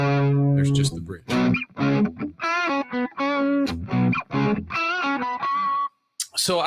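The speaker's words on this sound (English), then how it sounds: "So I think that's a pretty nice Southern rock Marshall type sound." Electric guitar played through a Spark amp with a Southern rock, Marshall-type overdriven tone on the bridge pickup: a loud, close run of distorted chords and single-note licks with brief gaps, ending on a sustained note.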